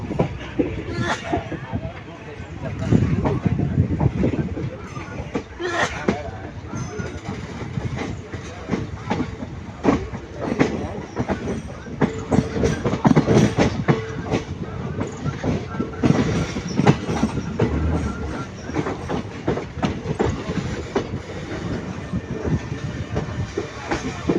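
A passenger train runs on rails near Erode Junction on the Karur to Tirupur route, with loud continuous rumble and rhythmic clickety-clack of wheels, while people talk over it.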